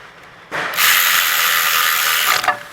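Ratchet with a T30 bit snugging down the rear caliper bolts on a Volkswagen with electric parking brake calipers, a close, loud, continuous burst of rapid clicking that starts abruptly after a quiet moment and stops after about two seconds.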